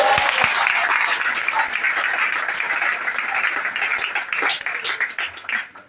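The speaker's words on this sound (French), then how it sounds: "Est-ce qu'on peut acclamer très fort pour le Seigneur?" A church congregation applauds loudly for the Lord, with dense, sustained clapping and some cheering that thins toward the end.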